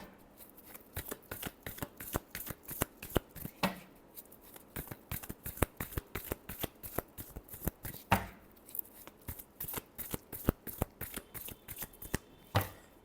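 Tarot cards being shuffled in a steady run of crisp riffles and flicks, close and clear, with a few brief pauses and no talking.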